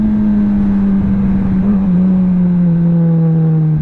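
A Kawasaki ZX-10R motorcycle accelerating hard in second gear, a loud, steady engine drone that climbs smoothly in pitch, with a brief dip partway through, heard close with no talking.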